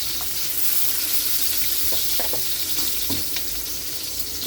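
Garlic and onion hit hot oil in a pan already holding ginger, sizzling steadily with a loud hiss throughout, broken by a few scraping stirs, as the aromatics for pork dinuguan are sautéed; no one speaks.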